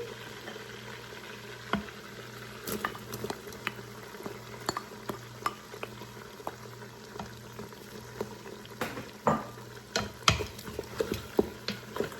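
Chopped onion frying in a pot with browned meat for a curry cabbage soup, a steady sizzle broken by frequent clacks and scrapes of stirring that grow busier toward the end.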